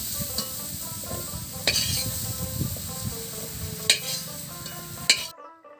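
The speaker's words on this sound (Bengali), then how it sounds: "এঁচোড়ের টুকরোগুলোকে ভেজে নিয়েছি। এবার তুলে নিচ্ছি।" Fried jackfruit pieces sizzle and crackle steadily in a pan, with a few sharp metallic scrapes and clinks as they are lifted out, ending abruptly in silence.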